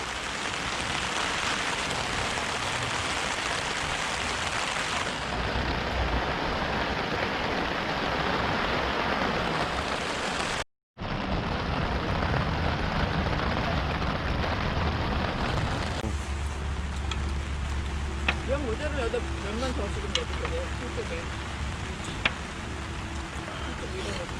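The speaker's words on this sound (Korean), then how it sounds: "와, 비 많이 온다. 어? 비 너무 많이 오는데?" Heavy rain pours at a pine-forest campsite in Mokgye during a rainy backpacking trip with a tent. It is a loud, dense, continuous hiss and drumming that shifts in tone partway through and barely pauses once.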